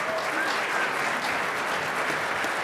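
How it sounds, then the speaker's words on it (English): Audience at a real estate challenge evening event applauding a guest, a steady wash of many hands clapping at moderate distance, even and continuous without talk. "let's give a round of applause here for Lisa Hidalgo tonight"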